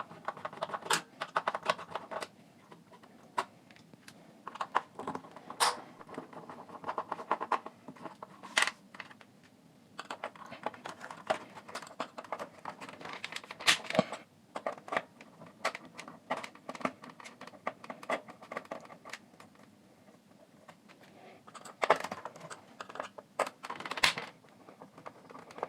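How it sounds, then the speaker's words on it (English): Screws are backed out of a Philips RR485 cassette radio recorder during a teardown, producing scattered faint clicks and small metallic ticks with scraping handling noise between them, close and quiet, with no talk. "So for that we have to take out only"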